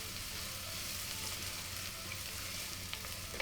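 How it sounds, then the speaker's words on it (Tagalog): Chopped onion sizzles in a hot pan, a steady bright crackle and hiss with soft stirring sounds, close and continuous with no talking. "Magigisa muna tayo ha. Ang una ko nilalagay ay yung sibuyas."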